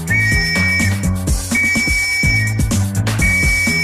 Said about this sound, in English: Blowing the whistle on lawbreakers and traffic offenders is an ear-splitting ritual.